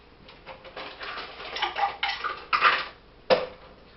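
A metal cocktail shaker tin packed with ice and a gin cocktail with fresh lemon juice rattles in several irregular, close bursts, the ice clattering loudly against the metal, with no talking.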